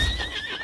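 A horse neighs in the video game Lost Ark, a single short whinny with a wavering pitch, heard alone and fairly faint.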